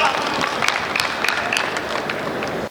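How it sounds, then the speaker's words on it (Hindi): An audience at a Hindi poetry recital applauds. The clapping is steady and dense and sounds crowd-sized, with a few sharper claps standing out. It continues for a few seconds and then stops abruptly. "एक बार तालियां बजा दीजिए।"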